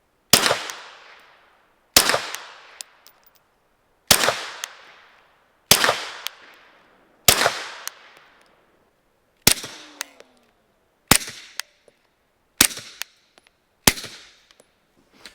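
A Dead Air Odessa 9 suppressor fires five supersonic Tula rounds, then five 165-grain Freedom Munition Hush rounds. Ten sharp, loud reports come alone at steady intervals of about one and a half seconds, each fading quickly.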